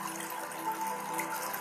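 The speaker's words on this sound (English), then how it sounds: "Hear the water flow" Water flows steadily like a running tap or trickling stream, a smooth continuous rush at moderate loudness with no talking.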